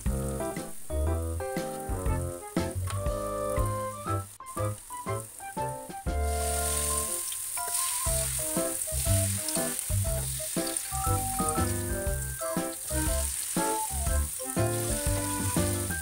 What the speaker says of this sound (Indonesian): kita goreng adonannya sampai habis